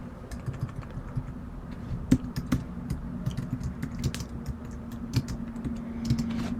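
Someone types on a computer keyboard: quiet, irregular clicks and taps at close range, with a few sharper keystrokes standing out over a low steady hum.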